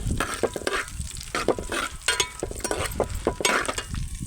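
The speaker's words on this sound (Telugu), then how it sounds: "ఒక రెండు స్పూన్ల జీలకర్ర ఒక రెండు స్పూన్ల ధనియాలు వేసుకొని కొంచెం ఫ్రై చేసుకుందాం" Cumin and coriander seeds frying with dried red chillies in a pan, a continuous close sizzle broken by regular stirring scrapes and clinks of the spoon.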